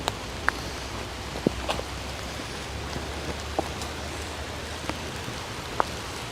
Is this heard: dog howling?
no